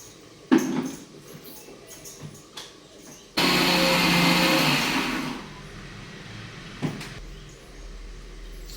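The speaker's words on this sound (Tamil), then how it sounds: "இப்போ இதை அரைச்சிடலாம்" A blender grinds chutney, whirring loudly for about two seconds, preceded and followed by scattered kitchen clatter and knocks.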